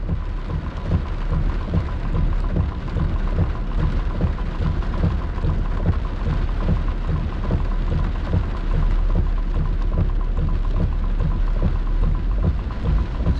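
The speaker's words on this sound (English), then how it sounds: "Here's the rain curtain." Heavy rain from a thunderstorm pours down in a dense, continuous roar, loud and steady throughout with a low rumbling undertone.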